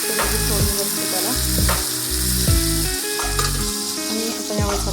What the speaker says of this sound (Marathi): फोडणी बसते त्याला.